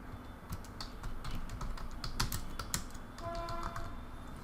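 Quick irregular keystrokes clatter on a computer keyboard as text is typed into Adobe Illustrator, light close clicks in short bursts over a quiet room.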